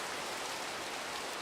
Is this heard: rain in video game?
yes